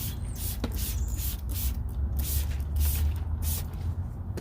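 Repeated hissing aerosol bursts of tire dressing sprayed onto Plasti Dip-coated wheels come in short pulses over a quiet background, close and fairly soft.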